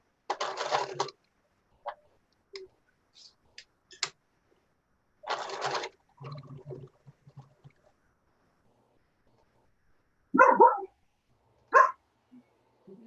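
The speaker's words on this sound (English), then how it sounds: "My dog." A dog in a home sewing room gives several separate loud bursts of barking spread over the stretch. Quieter whirring and tapping from a sewing machine fill the gaps between the barks.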